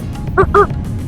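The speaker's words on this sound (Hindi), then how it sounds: "एक पूरा झुंड जा रहा है चिड़ियों का।" Two short, nasal honking calls from a passing flock of waterfowl, close together, standing out briefly against a low background rumble, at Triveni Sangam, Somnath.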